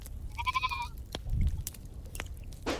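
A single sheep bleats in a wavering call near the start, followed by scattered clicks and thumps, with a rough breathy noise at the end.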